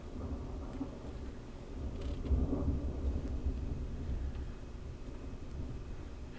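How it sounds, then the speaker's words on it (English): Thunderstorm outside, heard from indoors in the American Southwest: a low, rolling thunder rumble that swells around the middle and then trails off into a steady distant murmur, with no voices. "Have us a thunderstorm out back."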